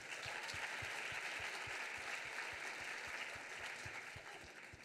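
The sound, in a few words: audience applauding the students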